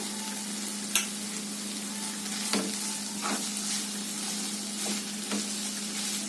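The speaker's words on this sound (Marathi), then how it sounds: "आता हे मिनिटभर चांगलं परतून घेऊया, जेणेकरून मॅगी मसाला सगळ्या भाजीला लागेल" Cluster beans (gavar) tossed with masala and chopped coriander sizzle steadily in a pan, with a constant low hum beneath and several sharp clicks of a spatula scraping and stirring at irregular intervals; no voices.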